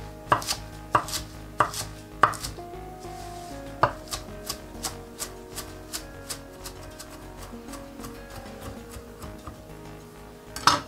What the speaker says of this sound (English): And I'm gonna start with the kale. Fine or rough chop